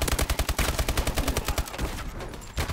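Rapid gunfire in a battle royale shooter game crackles in fast repeated bursts, loud and close, like a shotgun and automatic weapons going off one after another.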